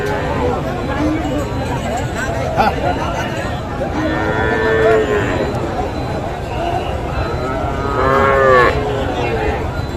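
At a livestock market where young bulls and heifer calves are bought and sold, several cattle moo loudly and repeatedly over a constant murmur of crowd chatter and nearby talk.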